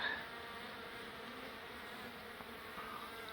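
Steady, dense buzzing of many honeybees around a hive, a continuous low hum close by with no voices.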